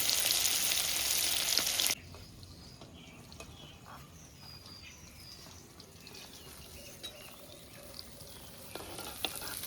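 Fresh Ganges hilsa fish frying in oil on a clay stove in a village kitchen, a loud hiss for the first two seconds, then quieter crackling and stirring with faint outdoor ambience.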